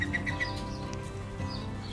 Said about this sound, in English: Well, they do crow, but it's a very small little like bird call.